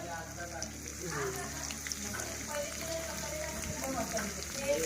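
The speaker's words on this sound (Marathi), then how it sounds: "आपण तेल टाकलंय त्याच्यात कांदा मिरची तेजपत्ता टाकलाय" Onion, chili and bay leaf frying in oil over a wood-fired clay stove, giving a continuous soft sizzle and crackle with small pops, while people talk over it.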